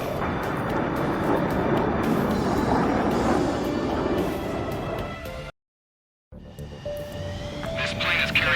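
Aircraft engines drone loudly in a night-time Ace Combat 7 flight, a steady broadband roar that cuts to silence for a moment, then returns with a whining tone and swelling rumble; a voice talks over it.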